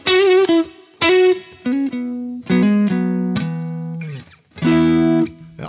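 Electric guitar played through a Digitech Jimi Hendrix Experience multi-effects pedal with reverb turned up, ringing out a series of loud, close chords and short phrases with a wet, lingering tail and no talking.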